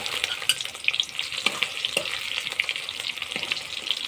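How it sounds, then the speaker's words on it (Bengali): Whole cumin seeds and dried red chillies tempering in hot oil in a pan while being stirred, a busy crackling sizzle with sharp pops and scraping stirs throughout, close and alone with no voices. "তা প্রথমে আমি তেলে ফোড়ন দেব, গোটা জিরে, শুকনো লঙ্কা, সই বাটা"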